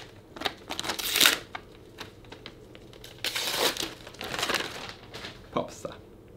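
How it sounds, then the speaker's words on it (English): Paper gift wrapping being ripped open by hand, with bursts of tearing and crinkling that come close and in irregular clusters, alongside quiet rustling between the louder rips. "It's paper. It's supposed to be ripped."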